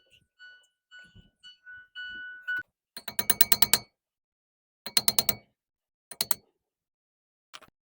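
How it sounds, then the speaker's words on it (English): Cover being pried off a wheel hub on a Ford E-250 van, giving bursts of sharp metallic ratcheting clicks in close, loud clusters after a few faint taps, then shorter clicking runs near the end. "we can start taking this cover off to expose the mechanism that releases this rotor from the spindle"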